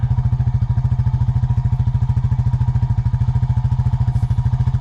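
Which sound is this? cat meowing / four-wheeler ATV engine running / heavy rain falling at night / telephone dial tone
four-wheeler ATV engine running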